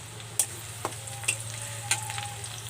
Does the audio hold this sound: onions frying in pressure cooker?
yes